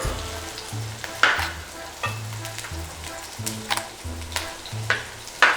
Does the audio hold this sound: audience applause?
no